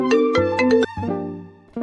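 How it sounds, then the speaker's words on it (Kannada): A phone ringtone plays for an incoming call, a bright melodic tone sequence in repeated bursts, close and fairly loud with no talking over it. "ಓ ಫೋನ್ ಮಾಡ್ಬಿಟ್ಲು ಅಷ್ಟು ಬೇಗ."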